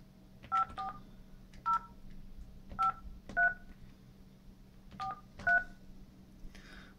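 Seven crisp DTMF dialing beeps from a Cisco SPA525 office phone on speakerphone, short tones in uneven pairs over a low steady hum, loud and close, with no talking.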